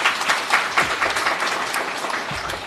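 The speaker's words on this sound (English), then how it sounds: "Let's give them another round of applause." Conference attendees applaud panelists after a discussion on deep seabed resources, with a burst of mixed clapping from a moderate crowd that holds steady and then slowly eases.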